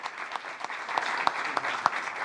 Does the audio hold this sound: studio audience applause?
yes